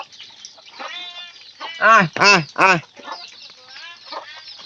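A chicken gives three loud, harmonic squawks in quick succession, with softer clucks before and after and a person talking over them close by.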